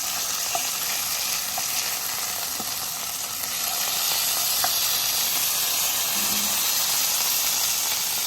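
A slice of beef steak sizzles steadily in a hot pan, a continuous close hiss of frying with small pops and crackles and no one speaking.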